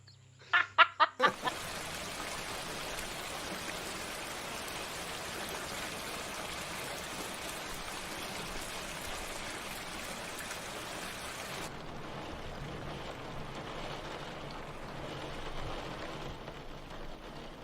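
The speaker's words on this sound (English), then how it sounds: "It's raining outside." Steady rain falls outside in a dense, even hiss that runs without a break, after a brief burst of sharp clucking-like sounds at the start, and softens slightly toward the end.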